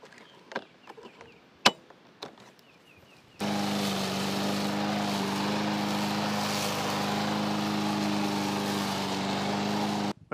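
A lawn mower starts with a few clicks and pulls, then runs loud and steady close by, set to its highest wheel height while cutting a small grass patch on a hill.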